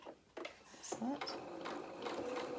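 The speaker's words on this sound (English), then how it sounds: "A couple of stitches forward, a couple of stitches back, and needle in the work so we can pivot." A sewing machine stitches the head of a hedgehog fabric doll, running steadily with short forward and reverse bursts and brief stops to pivot, while a person talks over it.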